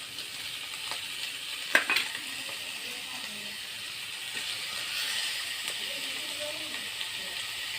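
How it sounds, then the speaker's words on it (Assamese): Chopped tomato goes into a hot frying pan for a pork dish and sizzles in a soft, steady hiss, with a couple of sharp clinks of a utensil early on and faint stirring noises throughout. "এবাৰ কাটি লোৱা বিলাহীটো দি দিম মই।"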